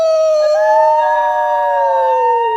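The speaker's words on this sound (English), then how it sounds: "The dogs howl with their master." Dogs howl loudly and close in a long, sustained, rising and wavering cry with clear tonal layers and no voices.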